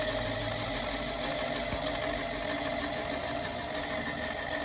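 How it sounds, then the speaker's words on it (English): A Grizzly 6x27 inch single-phase vertical milling machine runs under power feed, giving a steady mechanical hum and whine with faint rhythmic gear chatter and a brief low thump early on. "this is a Grizzly 6x27 inch vertical mill."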